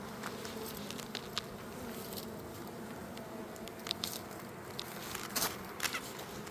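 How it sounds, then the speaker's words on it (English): Honeybees swarm around an open hive on a warm day during a colony split, a steady close buzzing drone with occasional louder passes near the ear. "So these bees are coming out to get some pollen because it's super warm today."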